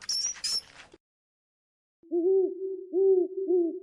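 An owl hoots at night in Luangwa, three low, clear hoots spaced about half a second apart after a brief burst of other noise and a moment of silence.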